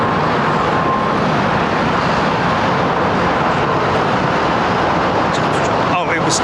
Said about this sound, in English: 787 going out.